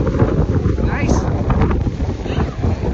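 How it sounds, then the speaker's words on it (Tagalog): A strong wind at Folly Beach, South Carolina buffets the microphone with continuous low roaring gusts, alongside faint ocean sounds. "Pero mahangin sobra."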